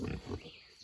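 Wild hog sow in heat grunting and squealing in a pen, a short rough vocal burst close by, fairly faint, with no talk.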